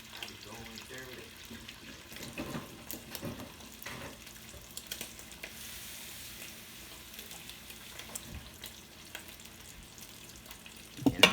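Ahi tuna sizzles on low heat in a pan, a soft continuous crackle and hiss with scattered pops and occasional clinks, faint and steady throughout.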